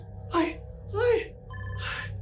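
A telephone rings in a Thai drama episode with three separate trilling bursts spaced about half a second apart, close and fairly clear over a low hum, with a voice gasping or wailing during the rings.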